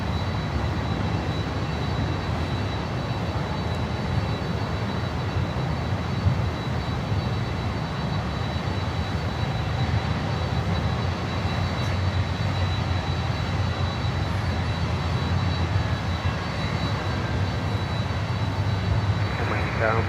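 A jet airliner on approach to land on runway 9 at Miami airport, a steady broadband engine roar holding loud and continuous throughout, with radio voices talking over it.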